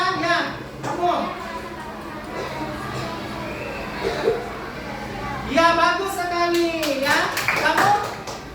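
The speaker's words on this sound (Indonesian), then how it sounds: "Tepuk tangan untuk Nadia." Children in a primary-school coding class clap for a classmate, a brief patter of small hands mixed with a teacher's voice and children speaking over classroom chatter.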